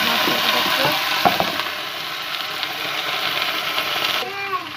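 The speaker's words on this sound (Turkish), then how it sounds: "Evet arkadaşlar patatesimizi kızarıyorlar" Steady sizzling of potatoes frying in a pan, a continuous crackling hiss with a few clinks of a utensil stirring near the start.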